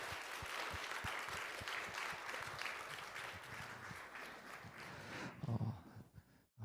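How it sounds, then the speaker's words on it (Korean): Church audience at a Bible war history seminar gives a sustained round of clapping that thins out near the end, moderately distant in a hall. "우리 이덕윤 장로님께 다시 한번 큰 박수 드리도록 하겠습니다"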